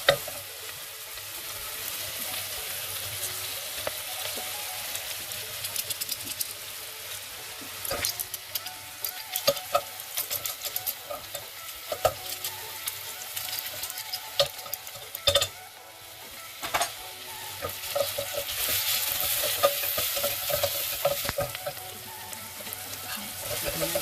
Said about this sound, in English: I like to make the garlic also to fry in the oil